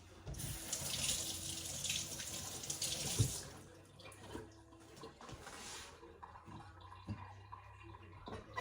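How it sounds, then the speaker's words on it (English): Tap water runs steadily into a kitchen sink as strawberries are rinsed, a loud continuous splashing stream that eases off partway through, leaving quieter drips and handling sounds. "So, rinse these strawberries off."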